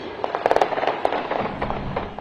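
A rapid burst of sharp popping shots, several cracks in quick succession, followed by scattered distant bangs amid crowd noise and screams at a victory celebration.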